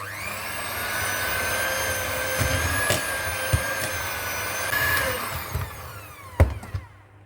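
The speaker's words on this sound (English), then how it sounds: "With the electric cake beater, I am going to cream the margarine and the sugar together on a low setting." An electric cake beater running on low, creaming margarine and sugar in a bowl, giving a steady close whine with faint clatter against the bowl before it switches off near the end.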